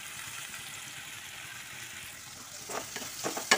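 Chopped onion with a little salt sizzles steadily in a pan while chicken kheema is being cooked, a constant close frying hiss, with a few spatula stirs and scrapes toward the end.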